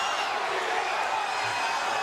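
A UFC arena crowd in Lake Charles, Louisiana, roaring and cheering as a steady wash of noise, with no clear break for the whole moment.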